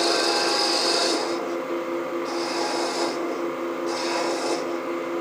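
A spindle gouge cuts a wooden chess piece spinning on a lathe, giving a loud, steady scraping rasp that comes in three brighter bursts with no one talking.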